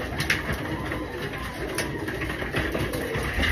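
Racing pigeons being fed coo softly and repeatedly nearby, their low murmuring calls running steadily with no talk.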